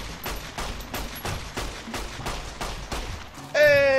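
Rapid automatic gunfire in Fallout: New Vegas, a hardcore-mode modded playthrough, rattles out in a steady stream of loud, evenly spaced shots for several seconds before a brighter ringing tone cuts in at the end.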